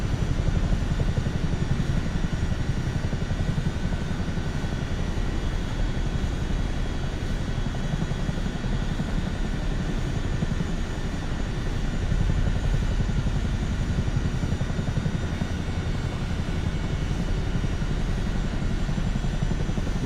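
Aircraft engine in Microsoft Flight Simulator 2024, a steady, loud propeller drone with constant low rumble and a faint high whine, holding unchanged throughout with no voices.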